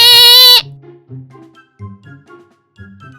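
A goat gives one loud, sustained bleat, then voices speak in a quiet room.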